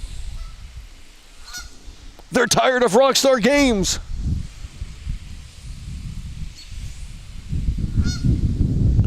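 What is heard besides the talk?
geese honking nearby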